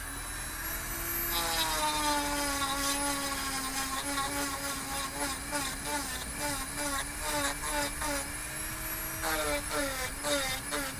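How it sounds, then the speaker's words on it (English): Dremel rotary tool rounding off the sharp edges of a Boba Fett vambrace, a high whining buzz whose pitch wavers as it bites, with stuttering grinding bursts, close and steady with no talk. "good time to use the Dremel"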